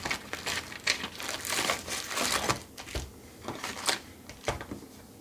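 Crinkling and tearing of foil wrapping as a Ravnica trading card booster pack is ripped open, close and uneven, with bursts of rustle and crackle over a few seconds.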